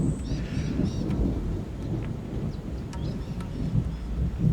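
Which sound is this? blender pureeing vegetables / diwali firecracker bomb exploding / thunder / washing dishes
thunder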